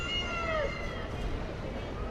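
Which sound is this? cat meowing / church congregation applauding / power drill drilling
cat meowing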